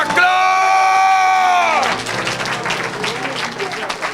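A held musical chord gives way to a church congregation bursting into applause and cheering, a dense, loud crowd roar with clapping that lasts to the end.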